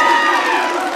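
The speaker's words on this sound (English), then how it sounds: "This is like the best crowd." A studio audience cheers and shouts in one sustained, loud roar of crowd noise that fills the space without a break.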